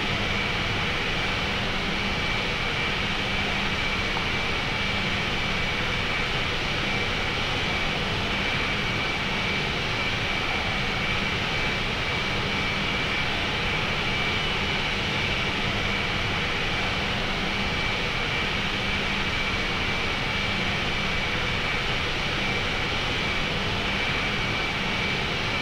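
Airbus A380 jet engines in the RFS flight simulator during a landing approach at Los Angeles, heard as a loud, steady, continuous roar with a faint high whine held throughout.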